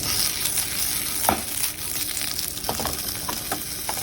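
Leftover food reheating in a pan sizzles and crackles steadily, with a few sharper pops and spatters rising above the continuous frying hiss.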